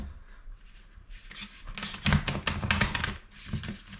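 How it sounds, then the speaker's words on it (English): Oversized oracle cards being shuffled by hand, giving a rapid run of crisp riffling taps and slaps that builds midway and then patters on in shorter bursts, close and fairly quiet with no talking. "let's take out some oracle cards. Let's see if I can shuffle these."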